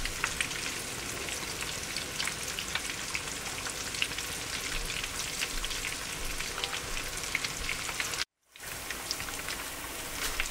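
Tempura eggplant and potato chops deep fry in hot oil with a dense, even crackle and hiss, like steady rain, that cuts out for a split second near the end before resuming.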